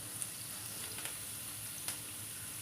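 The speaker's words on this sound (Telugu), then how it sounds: "ఇవన్నీ వేసుకొని కొంచెం మీడియం ఫ్లేమ్లో పెట్టుకొని ఇవన్నీ కొద్దిగా పప్పులన్నీ ఎర్రగా అయ్యే వరకు ఫ్రై చేసుకోండి" Chana dal, urad dal, mustard seeds and cumin frying in a pan over a medium flame give a faint, steady sizzle with a few soft pops or taps.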